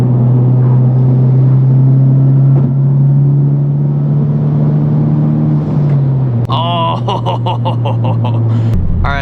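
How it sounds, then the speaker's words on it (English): A 2021 Honda Civic Type R with a MAPerformance exhaust holds a loud, steady droning rumble under throttle that eases slightly toward the end, when a person briefly talks over it. "the more throttle you give, the more you're gonna hear it."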